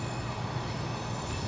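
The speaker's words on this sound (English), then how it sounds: "as the end of the train goes by" A CSX freight train hauling fertilizer rolls past at its tail end, a steady loud rumble of railcars and wheels with a continuous high squeal running throughout.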